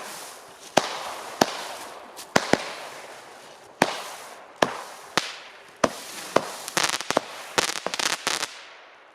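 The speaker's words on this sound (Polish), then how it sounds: "Ciche fajerwerki." A Murmina TB143 Tropic firework cake pops and cracks in a series of sharp bangs, sparse at first, then quickening into a rapid flurry of crackles near the end.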